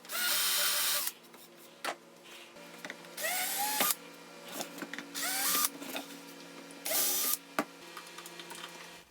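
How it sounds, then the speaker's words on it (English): A power drill bores mounting holes into a DIY wooden shelf in several short, loud whirring bursts separated by quiet pauses, with faint clicks and handling noises between them. "I realized I hadn't created the holes for the mounting. So I did that real quick"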